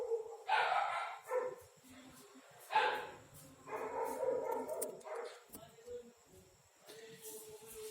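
A dog barks several times in short, sharp bursts with pauses between, fairly faint and somewhat distant, heard indoors during an online physics class.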